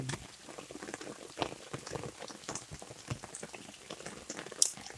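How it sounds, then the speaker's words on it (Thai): Rain patters steadily onto surfaces, a soft, dense spatter of drops heard from close by with no voices. "วันนี้ฝนตกแรงนะครับนี้"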